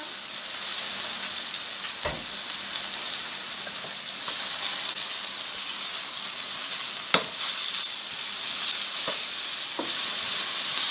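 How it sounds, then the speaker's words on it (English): Onions sizzle in oil in a covered pan on the stove, frying steadily with a constant crackle, broken by a few sharp clicks and scrapes as they are stirred. "So I'm gonna cover this now and let it cook until the onions are translucent."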